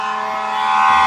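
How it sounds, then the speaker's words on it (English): A fire truck siren wails continuously in Brooklyn, a loud steady tone that swells slightly as it passes close by. "Fire Truck want to be heard."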